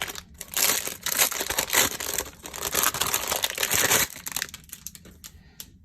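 Plastic packaging around a roll of extra thick score tape, 27 yards long and one inch wide, crinkles and tears close up in a steady run of loud rustling bursts, easing off near the end with no talking.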